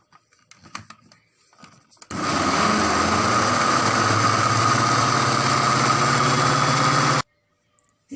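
An electric mixer whirs steadily while blending egg into a chicken drumstick mixture, a loud continuous motor hum lasting about five seconds after a few quiet clicks and knocks, then cutting off abruptly.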